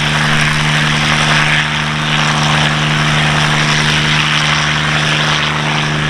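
A Bell 47 helicopter with a 200 horsepower Franklin engine flies a display at East Kirkby Airshow, its engine drone and rotor hum loud and continuous throughout.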